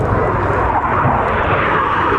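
Jet engines of Red Arrows aircraft roar steadily overhead during double rolls at the RAF Cosford Airshow 2022, a loud, continuous broadband rush with no pause.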